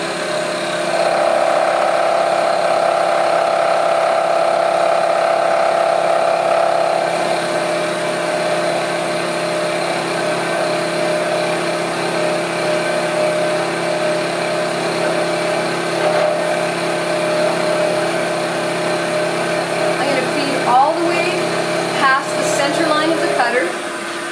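A machine with a rotating cutter machines a workpiece under a steady, loud whir, with a consistent drone throughout and brief scraping near the end.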